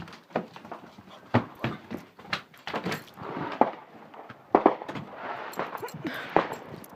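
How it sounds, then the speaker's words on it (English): Fireworks go off in a series of irregular sharp bangs and crackles, some near and loud, others more distant, spread across the whole stretch with faint background noise between bursts. "We just need to wait until there's more fireworks."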